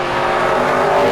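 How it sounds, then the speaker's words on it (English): An Aston Martin Vantage GT8 engine roars loud and close, a dense sustained raspy blare that holds steady throughout with no talk over it. "Wow, this car makes a hell of a noise. Vantage GT8."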